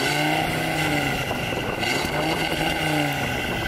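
A first-generation Audi RS3 five-cylinder engine revs loudly and close up. Its steady, raspy drone rises and falls through the revs.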